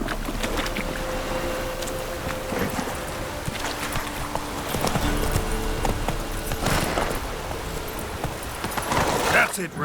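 Hooves of Roach, Geralt's horse in The Witcher 3, clip-clop in a steady trotting rhythm, with game ambience and music around them and a voice talking now and then over the top.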